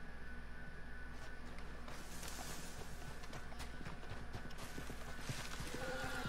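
Horse hooves clip-clop in a rapid galloping rhythm in Red Dead Redemption 2, a faint, steady beat under a quiet game ambience with no talking.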